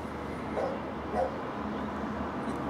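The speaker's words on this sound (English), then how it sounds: "Hear the dog barking." A dog barks twice in the distance, faint short yaps against a steady indoor background hum with no talking.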